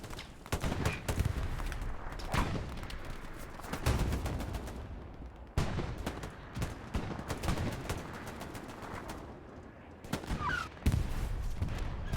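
Machine gun cover fire during a competitive tactical shooter match, heard as dense rattling bursts and scattered distant gunshots through a steady battle din, with sharper reports standing out now and then.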